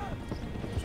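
Horse hooves clip-clopping at a gallop in the open-world western game Red Dead Redemption 2, a steady rhythmic thudding, fairly loud and continuous, with game voices murmuring underneath.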